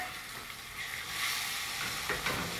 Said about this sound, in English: Look, this is tofu. This is tofu. Cook it.